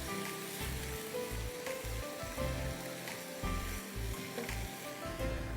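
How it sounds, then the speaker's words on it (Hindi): Minced beef fries in a pan for a beef fateh, a steady close sizzle hissing without pause, with faint scraping of the meat being broken up and stirred. "ये इसको बिल्कुल भूनिए अच्छी तरह।"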